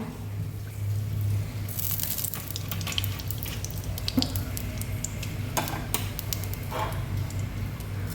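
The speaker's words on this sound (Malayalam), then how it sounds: "വെളിച്ചെണ്ണ ഒഴിക്കാം" Coconut oil poured into a hot pan for a breadfruit curry, giving a soft steady sizzle with a few clinks and scrapes of utensils, fairly faint.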